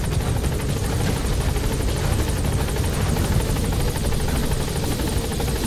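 Helicopter in the video game Metal Gear Solid V, a steady loud rotor thump and engine drone running continuously without pause.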